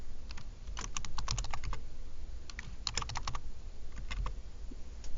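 Typing on a computer keyboard, with quick clusters of crisp close keystrokes separated by short pauses over a quiet background hum.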